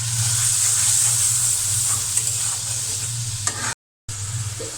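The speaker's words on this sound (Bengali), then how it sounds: "এখানে মশলাটা কষানো হয়ে গিয়েছে" Spice paste of chili powder and salt being fried and stirred in a pan for a hilsa fish curry, a continuous close sizzle with soft scraping strokes and a brief dropout near the end.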